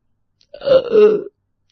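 A long, drawn-out human burp after eating kachoris, a single low guttural belch lasting about three quarters of a second, close and fairly loud, with no talk around it.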